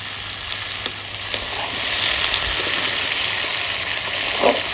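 Chicken curry sizzles and fries in a pan as hot water is poured in, a steady hiss with spatter and a few sharp crackles.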